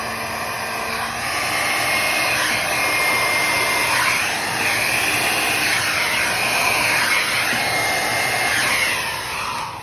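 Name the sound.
hairdryer blowing fluid paint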